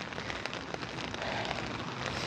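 Steady rain falls during the rainy season, a dense, even patter of drops striking nearby surfaces that holds constant throughout with no voices.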